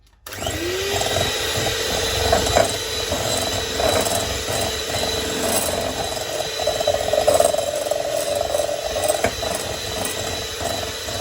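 Eggs and caster sugar are beaten in a large mixing bowl with an electric whisk, a steady close motor whir running throughout after a brief start, with faint irregular rattles of the beaters against the bowl.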